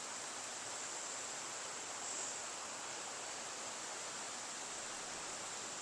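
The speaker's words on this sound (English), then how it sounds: "imagine the nourishment of this waterfall being near you" A waterfall heard during a yoga session plays as a steady, even rush of broadband water noise, constant and unbroken from start to finish, with no voices on top.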